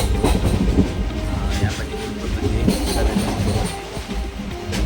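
Passenger train running from Udupi to SMVT Bengaluru, heard from inside the coach as a steady, loud rumble and clatter of wheels throughout, with faint voices in the carriage.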